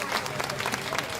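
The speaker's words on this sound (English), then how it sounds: "Let's give them all a big round of applause." Audience applause for a group of senior showmen at a farm show competition, a brief steady patter of clapping with some crowd murmur throughout.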